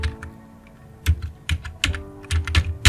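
Someone types on a computer keyboard while entering data into an Excel spreadsheet: close, quick clusters of key clicks with short pauses, alone in a quiet room.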